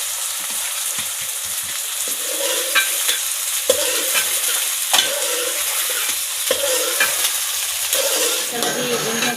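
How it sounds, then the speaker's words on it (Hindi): Okra sizzling and frying in hot ghee in a wok, with a steady loud hiss and occasional stirring scrapes and clatters throughout. "घी भी डाल दिया, घी गर्म हो चुका है। अब भी इसमें ऐड करती हूँ भिंडी।"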